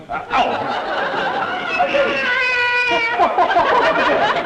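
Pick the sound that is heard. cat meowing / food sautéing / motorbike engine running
cat meowing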